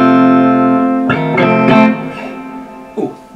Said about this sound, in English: Nice reverb on this, all solid state of course.